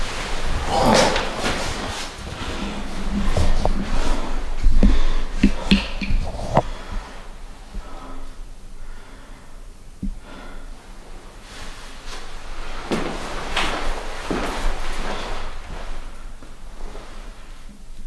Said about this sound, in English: I just heard a door close on me. Or a door slam.